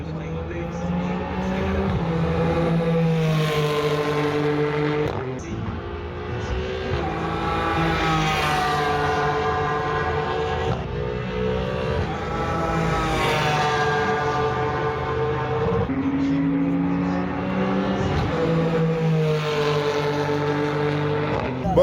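Ligier prototype race cars of the European Le Mans Series roar past on the circuit, seen from the grandstand opposite the pits; engines rise and fall in repeated loud passes, one car after another, with gear-change sweeps between them.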